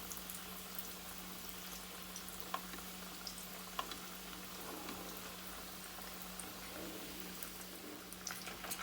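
Fried milk dessert sizzling in a pan of oil, an egg-free Spanish leche frita, giving a steady soft crackle and bubbling with occasional small pops, close and fairly quiet throughout with a low steady hum beneath.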